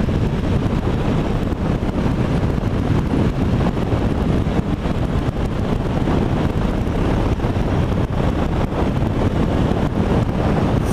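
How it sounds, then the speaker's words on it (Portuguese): Strong wind roaring and buffeting over the microphone while riding a Yamaha Lander 250 motorcycle on a highway, a loud, continuous rushing noise with no voices. "Viu, vento? Tá forte, hein?"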